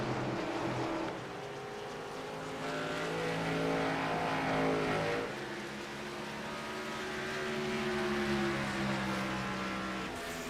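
Race cars circling an oval track, a steady engine drone with rising and falling pitch as cars pass, moderately loud and heard alone.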